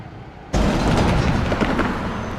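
An LA Metro light rail train pulls away on a test run near LAX, a loud broadband roar that bursts in abruptly after a quiet lead-in and stays dense and close with no talking.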